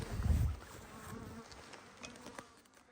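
A faint, low buzz of a honeybee close by at an apiary, strongest at the start, then fading into quiet background rustle.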